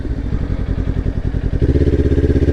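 A motorcycle engine runs steadily while riding, its pulsing exhaust rising briefly then settling into a louder, even throb after an upshift, close and alone with no talk.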